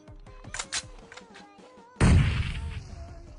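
Tinny electronic game sounds and clicks give way to a sudden loud blast with a rumbling tail, like a grenade exploding in a video game.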